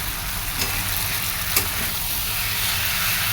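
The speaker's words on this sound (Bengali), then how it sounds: "কষানো হয়ে গেছে এবার জল দিয়ে দেবো" Water poured into a hot pan of spiced curry with green chilies and Kashmiri chili powder brings a loud, continuous hiss and sizzle, with a couple of sharp clicks from the pan.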